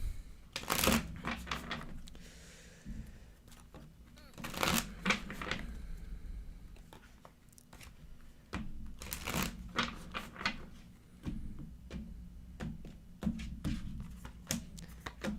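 Tarot cards are shuffled in repeated bursts of crisp riffling and flapping, with quieter handling sounds between them, close and fairly soft.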